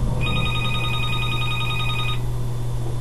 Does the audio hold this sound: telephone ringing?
yes